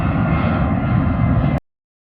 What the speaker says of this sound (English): There's a big aeroplane going over